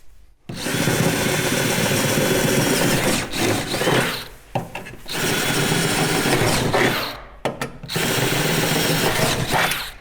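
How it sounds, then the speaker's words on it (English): A power drill bores 8.5mm holes through a Mazda MX-5 Miata's frame rail, loud and close, running in sustained bursts with short pauses between holes. "That's all drilled out"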